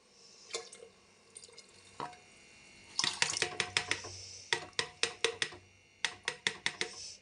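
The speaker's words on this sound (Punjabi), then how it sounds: "ਪਾਣੀ ਸਾਫ਼ ਆ ਵਿੱਚੇ ਪਾ ਲੈਣੇ ਪਾਣੀ ਨੂੰ" Clean water is added to a pressure cooker holding kodra millet, moong dal and rice, making bursts of sharp splashes and drips in quick irregular runs, close and fairly clear, with short pauses between pours.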